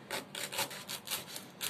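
A knife saws through tough, woody lemongrass stalks in close, rhythmic rasping strokes, about eight quick passes in under two seconds, with no talking.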